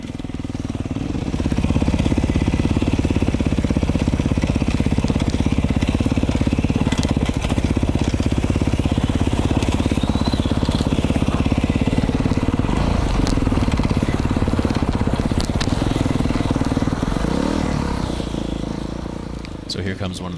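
Beta 500 dirt bike with an FMF header, ridden off-road near Ridgecrest, a loud continuous engine roar with rising and falling revs and wind rush, close to the rider throughout.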